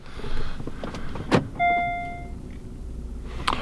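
Power sunshade motor in a 2017 Genesis G90 3.3T Premium, a short electric whine that starts abruptly and fades as the shade travels, between a few soft clicks and thumps inside the cabin.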